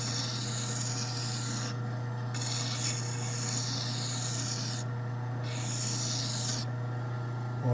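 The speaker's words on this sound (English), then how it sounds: "So I'm just filing at a slight angle there" A metal file rasps at a slight angle across a plane-adjusting hammer spun in a lathe, rhythmic scraping strokes with brief pauses between them over a steady low motor hum, close and clear.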